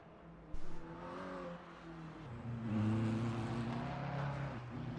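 A McLaren GT3 race car in a racing video game at Spa-Francorchamps, its engine note rising and surging steadily as it revs through the gears.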